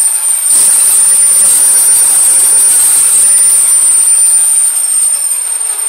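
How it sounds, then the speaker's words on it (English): Revved at three-quarter throttle, the gas-to-electric Losi DBXL RC truck with a ZTW 620kv motor and HobbyWing EZ-Run Max ESC gives a loud, steady, high-pitched electric whine that holds unbroken and close. "That was about 3/4 throttle right there."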